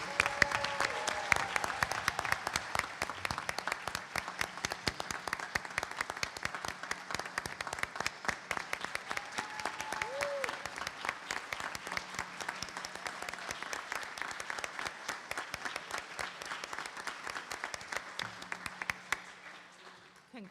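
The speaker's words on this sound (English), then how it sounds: "How about one more round of applause for our students?" At a high school board of education meeting, the audience applauds students with continuous crackling clapping that stays strong for about twenty seconds before tapering off at the end.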